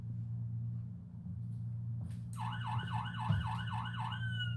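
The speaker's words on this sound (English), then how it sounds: "it activated the lights and sirens on the car" A police car siren set off by a motion-detecting device starts abruptly partway through, wailing in rising and falling sweeps over a steady low hum, loud and close.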